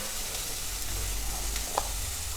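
Tempering sizzles steadily in a hot pan while veg hakka noodles are being made, a continuous close frying hiss with a brief louder spit near the end and no talking.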